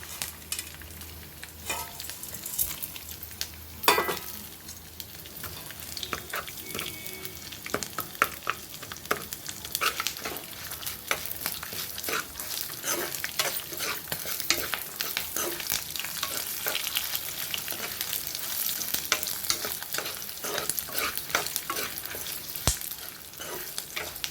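Asafoetida tempering sizzles and fries in a pan for a tamarind stew, with steady close stirring and scraping throughout and a brief louder clatter early on; no talking.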